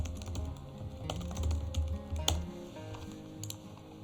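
Typing on a computer keyboard comes through as a quick, irregular run of close, crisp key clicks over a low background hum.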